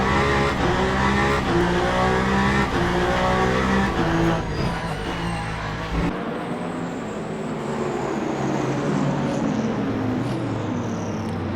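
Race car engines in a racing simulation game at the Bahrain 8 Hours, loud continuous roar with rising and falling revs, gear shifts and passing cars overlapping throughout.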